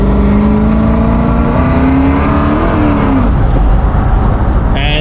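A 1981 Pontiac Firebird with a 350 small-block Chevy V8 and automatic transmission accelerating hard through the gears, a loud, close engine drone rising in pitch and then dropping at a shift, steady and without talk.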